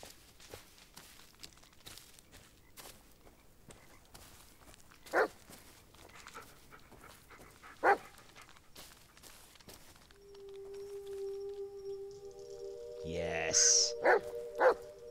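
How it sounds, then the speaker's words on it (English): Bullet the dog barks a few times in the woods of the Blair Witch video game, sharp bursts over soft footsteps, with sustained musical tones rising near the end. "He sure is barking a lot, isn't he?"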